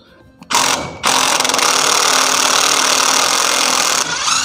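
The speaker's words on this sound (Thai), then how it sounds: "นี่ผมใช้ตัวไขควงกระแทกออกเลยนะครับจะได้เร็ว" An impact driver unscrews number 8 nuts from a satellite dish mount, a loud, close mechanical whir that kicks in, pauses briefly, then runs continuously for several seconds before easing off.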